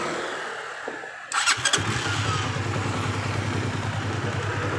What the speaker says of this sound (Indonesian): coba kita nyalakan motor